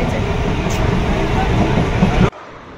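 Riding a crowded local train toward Borivali station: a loud, continuous rumble and rattle of the carriage on the tracks that cuts off abruptly just before the end.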